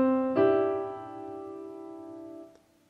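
Both hands play together on a piano in a pop-style tutorial piece: a soft low note, then a chord struck once and left to ring and fade, quiet and alone.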